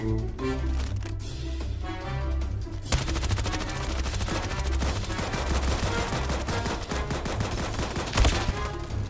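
In the Roblox game Frontlines, a machine gun fires long, rapid, loud bursts of shots after a short lead-in, with no talking.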